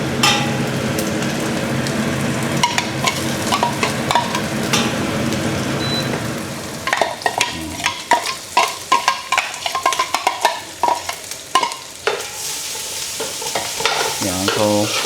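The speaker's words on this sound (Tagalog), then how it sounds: "So tayo lang din natin until mag-golden brown yung ating garlic." Plenty of garlic frying toward golden brown for an ampalaya and pork dish. A loud crackling sizzle gives way to busy, rapid scraping and clattering of a spatula stirring in the pan, with no voices.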